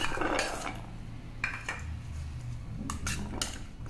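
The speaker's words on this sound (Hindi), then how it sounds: "अब हम टॉपिंग बनाने के लिए वेजिस को मिक्स कर लेते हैं।" Chopped vegetables being mixed in a bowl for a poha uttapam topping, with scattered clinks and scrapes of a utensil against the dish at close range.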